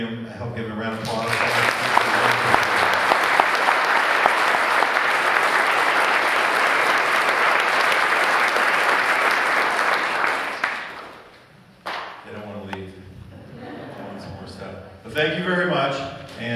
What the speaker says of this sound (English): Can you guys help give them a round of applause?